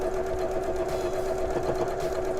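A sewing machine stitches a quilt border strip, giving a steady, fast mechanical whir with a regular stitching rhythm, close and fairly quiet, with no talking.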